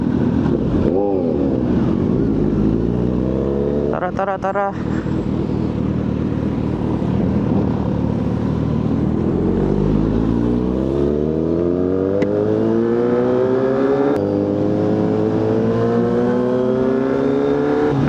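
A Kawasaki Z900RS motorcycle engine revs during a night group ride, a loud sustained drone with rising and falling harmonic sweeps as the throttle opens, plus a brief sharper burst midway and a short spoken word.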